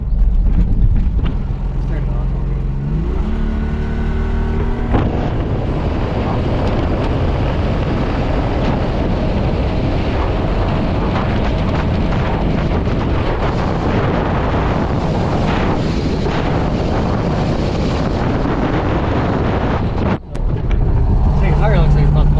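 A 1990 Pontiac Firebird on worn, falling-apart 31-inch mud tires roars continuously while driving, its engine and road noise loud and close with heavy wind buffeting throughout, and a voice talks over it.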